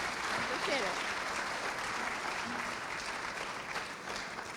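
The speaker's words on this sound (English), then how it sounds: "Please give a big round of applause" Warm applause from an awards-ceremony audience honoring inventors, steady dense clapping filling the hall from start to finish with a faint voice briefly under it.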